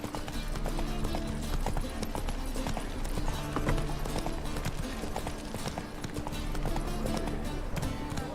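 A horse gallops in The Witcher 3, a steady, rhythmic clip-clop of hooves running continuously at moderate loudness over low game ambience.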